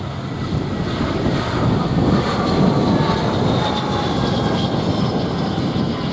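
Airplane at Montego Bay airport in Jamaica, a loud steady engine roar with wind buffeting the microphone, sustained without a break and no voices.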